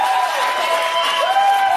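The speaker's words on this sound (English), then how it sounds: "Oh, they got the applause like just plastered." Studio audience applause and cheering on a Jimmy Kimmel talk show segment, a steady, loud wash of clapping with whoops that runs unbroken through the whole brief stretch.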